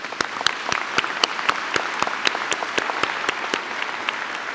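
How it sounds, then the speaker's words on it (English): Audience at a university graduation ceremony applauds steadily, a dense even patter of many hands clapping with a few sharper claps standing out, sustained throughout without talk. "So please join me in giving them a big round of applause."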